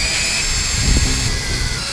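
A power drill with a dying battery whines at a steady high pitch over a rumbling, noisy background in a flooded yard, the motor straining slightly and wavering mid-run.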